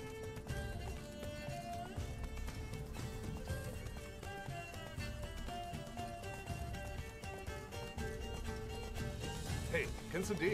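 Roach, Geralt's horse in The Witcher 3: Wild Hunt – Blood and Wine, gallops with a steady rhythmic clip-clop of hooves throughout, mixed with game music while someone talks.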